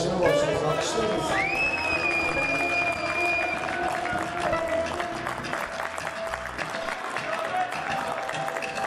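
An audience at an Edirne musicians' association ball claps and cheers steadily throughout, with a voice speaking Turkish over the applause and a whistle-like tone rising early on.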